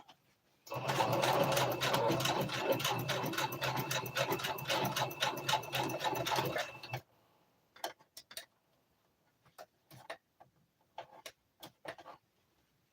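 A sewing machine stitching fabric for a twist turban hat runs in one steady, close mechanical whir for about six seconds, then stops and gives way to scattered clicks and handling taps.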